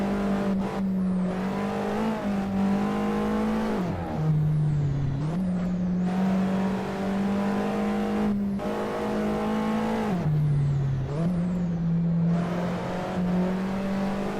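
An Alfa Romeo 4C mid-engine sports car is driven hard in a racing game around the Green Hell circuit. The engine holds a steady, loud drone, broken by quick gear changes and several dips where it drops and climbs back up.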